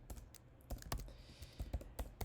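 Keys tapped on a computer keyboard in short irregular bursts, close and fairly quiet, with brief pauses between clusters of strokes and no voice over them.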